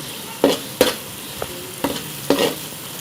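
Crushed spice masala frying in a pan on a medium-low flame for aloo lobia, with a soft steady sizzle broken by several short scraping stirs.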